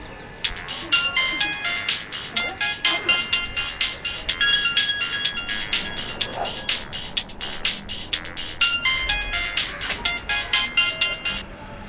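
A phone ringtone plays a bright, rapid electronic melody over and over, loud and close, with faint background noise underneath.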